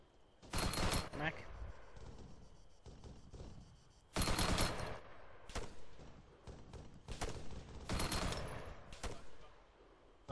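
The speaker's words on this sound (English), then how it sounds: "begin support fire now. 3-round bursts on the building" Repeated short bursts of gunfire rake a building in the video game Arctic Fox, several clustered volleys with sharp cracks and thuds, loud and near, separated by brief pauses over a low background.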